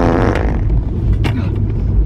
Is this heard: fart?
yes